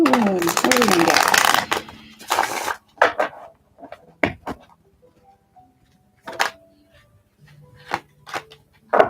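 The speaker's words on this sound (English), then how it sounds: "Shuffle them up real quick" A burst of tarot cards being shuffled near the start, then scattered light taps and card flicks, with a voice speaking in between.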